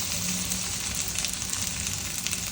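Potatoes sizzle and fry steadily in hot oil in a pan for a mushroom gravy, a soft continuous crackle with no voices.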